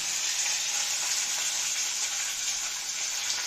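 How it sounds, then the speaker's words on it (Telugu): Curry leaves fry in hot oil in a pan, a continuous bright, hissing sizzle that stays steady and fairly close, with no talking. "కరివేపాకు ఎక్కువ వేసుకోండి"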